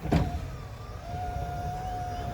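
The electric window motor in a Chevy G20 van whirs steadily as it raises the window, a thin, faint mechanical hum lasting about two seconds after a brief bump at the start.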